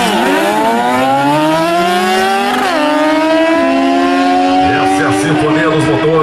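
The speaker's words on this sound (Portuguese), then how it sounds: "Sinfonia dos motores." Drag racing motorcycle engines roar loudly through a long rising and falling wail at a Copa Sul motorcycle drag racing event, with gear shifts and several bikes overlapping, while an announcer talks over the noise.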